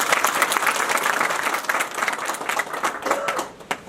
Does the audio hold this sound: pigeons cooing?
no